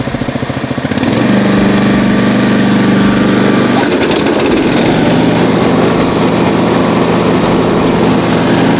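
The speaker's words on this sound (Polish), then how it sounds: "Jak widzimy nóż już kosi." A Scheppach MR196 garden tractor's small engine idles, then revs up sharply to a loud, steady drone as the mower blade engages and keeps cutting grass.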